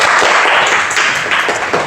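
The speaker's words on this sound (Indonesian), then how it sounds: "Beri tepuk tangan untuk temannya." A classroom group claps loudly in a steady burst of applause, close by, tapering off slightly toward the end.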